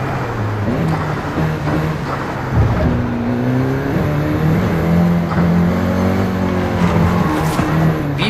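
A Volkswagen Golf GTI engine in Forza Horizon 5 drones continuously and close up, its pitch climbing and dropping through gear changes as the car drives on.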